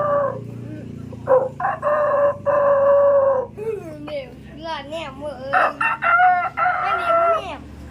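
Domestic village rooster crowing close by, several long, loud crows one after another, with someone talking between and over them.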